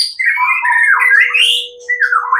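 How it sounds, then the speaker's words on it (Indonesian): A white-rumped shama (murai batu) sings a loud, close, continuous run of bright whistled warbles and chirps with a brief pause near the end, kept in top song condition for competition. "dan burungnya masih gacor teman"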